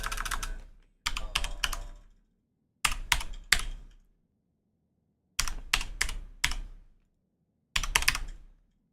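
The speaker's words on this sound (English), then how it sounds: "You're gonna hear my keyboard more now" Bursts of rapid key clicks on a computer keyboard during a flight simulator session, coming in five separate flurries with pauses between them, close and fairly loud, no talking.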